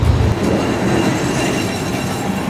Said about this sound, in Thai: รถไฟจะมาเหรอครับ